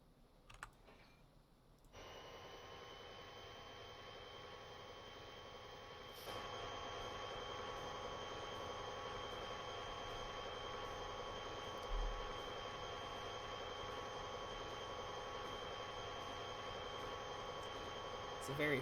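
A train slowly pulling into Hoot Junction Yard gives a steady, loud rumble with sustained high-pitched tonal squeal, growing louder partway through and holding at a constant level.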